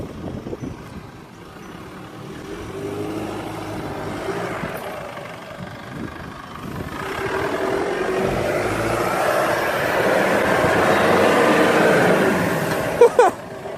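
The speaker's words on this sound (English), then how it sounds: "Spinning the tyres ain't gonna do it." A four-wheel-drive vehicle stuck in boggy ground on a Western Australian coastal track revs its engine hard while its tyres spin, a sustained loud roar that climbs in the second half, with no talking.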